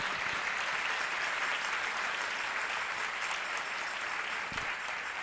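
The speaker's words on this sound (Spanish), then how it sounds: "vamos a darle un aplauso al amor eucarístico" An audience at a religious talk applauds, a dense, even wash of many hands clapping that holds steady and fairly loud for several seconds, with no speech over it.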